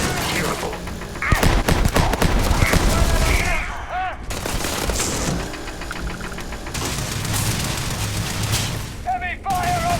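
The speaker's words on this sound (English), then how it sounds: "Heavy fire over here!" Heavy automatic gunfire from the video game Starfield: dense, overlapping bursts and booming shots run almost the whole stretch, loud and close, with game voices calling out in between.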